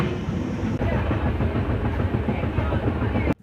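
An onboard Humsafar Express train runs steadily on the tracks, a loud close rumble with a rhythmic clickety-clack and a brief break partway through, and no voices.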